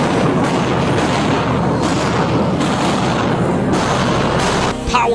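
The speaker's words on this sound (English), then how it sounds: "Police fire rubber bullets at students as cops reclaim the building from occupying" Police firing rubber bullets at student protesters while reclaiming an occupied university building, a loud, dense barrage of gunfire-like bangs and booms under a constant roar of crowd commotion, with several sharper reports standing out.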